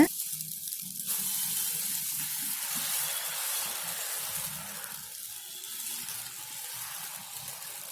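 Dosa batter for a spicy roadside-style kara dosa hits a hot griddle with a sudden loud sizzle that settles into a steady hiss, with faint scraping as it is spread.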